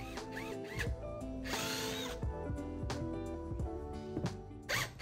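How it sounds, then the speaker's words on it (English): A power drill with a 5/16-inch bit whirs in repeated short bursts, motor revving up and down as it bores dowel holes into wood, close and loud with clicks between runs. "For that I am using a 5/16 dowel with a 5/16 drill bit."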